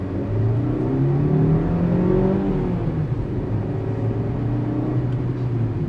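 A 2022 Maruti Suzuki Baleno Alpha AMT engine hums steadily from inside the cabin while driving, its pitch rising and falling smoothly with gear changes under a continuous low road rumble.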